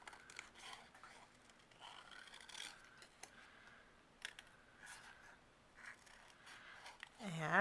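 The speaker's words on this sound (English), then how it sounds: "It just makes it easier for me to fussy cut." Scissors fussy-cut around a paper shape for cardmaking, giving soft, close snips and paper rustles at irregular intervals, quiet against a faint room background and growing louder near the end.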